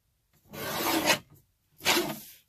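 Rasping strokes of a file smoothing the rough edges of a paper belly band cut from an altered hardcover book, two long close strokes with a brief pause between, no talking.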